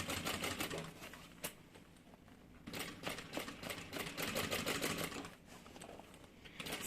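Sewing machine topstitching a handbag in rapid bursts of stitching, pausing briefly between runs, close and steady with no voices.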